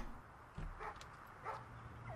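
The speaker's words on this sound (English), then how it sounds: "There's a dog barking in the distance." A dog in Project Zomboid barks in the distance, giving a few faint, muffled yips spread across the clip over a low background.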